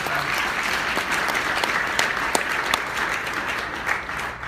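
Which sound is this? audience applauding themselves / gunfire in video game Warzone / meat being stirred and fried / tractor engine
audience applauding themselves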